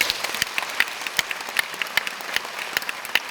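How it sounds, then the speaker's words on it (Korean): Seminar audience applauds steadily, dense continuous clapping from a sizable crowd with sharper individual claps standing out, fairly loud and sustained throughout. "그 귀인분께 박수 한번 보내주세요"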